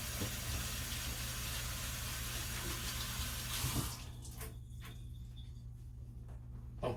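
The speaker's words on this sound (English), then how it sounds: "Rinse the hands again." Hands rinsed under a running kitchen tap while making homemade baked lasagna: a steady, loud rush of water for about four seconds, then the flow drops to a quieter splashing with a few small knocks.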